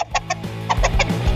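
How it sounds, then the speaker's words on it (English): A giant rooster among a flock of chickens gives a rapid run of loud, close clucks and squawks in quick bursts, amid busy rustling and scuffling noise during a clash with a hawk. "This hungry hawk picked the wrong crew of chickens to mess with"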